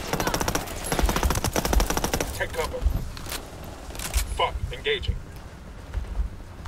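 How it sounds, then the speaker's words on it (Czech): Rapid bursts of automatic gunfire from the video game Ghost Recon Wildlands rattle loudly in the opening seconds, then fade to scattered distant shots with someone talking over them. "Odkud je ta střelba?"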